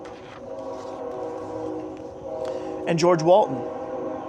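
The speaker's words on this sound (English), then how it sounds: "By the way, that's a sound of a train in the background." A train rumbles steadily in the background outdoors, a low continuous drone under a man's speech, with a brief rise in loudness near the end.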